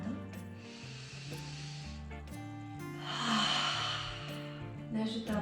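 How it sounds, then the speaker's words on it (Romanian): A person in a beginner yoga mobility class takes deep breaths and exhales audibly with a voiced sound, two long breathy exhale cycles with a hissing quality, close and fairly loud, no speech. "O să inspirăm profund, expirăm și scoatem sunetul."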